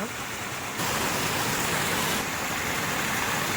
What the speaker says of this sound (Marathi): पावसाक पण आता जोरदार सुरुवात